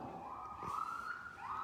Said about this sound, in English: there's a fire thing going on, or an ambulance going on in the distance